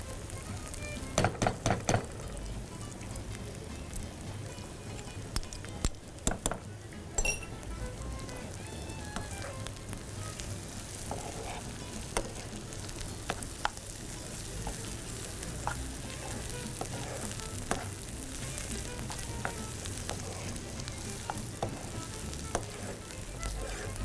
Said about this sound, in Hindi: अदरक लहसुन को भूनना है कि रॉनेस ना रहे